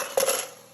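A Swiss Diamond cooking pan handled in a home kitchen gives a single brief metallic clink with a short ringing tail, close and alone.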